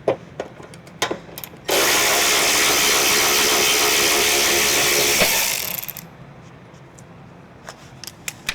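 Power tool whirring in a loud steady burst for about four seconds while a fender bolt is removed from a 2020 Honda Odyssey, framed by scattered clicks and taps of handling parts.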